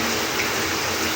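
Shower water from a newly installed shower heater runs cold in a steady, loud, full hiss with no break.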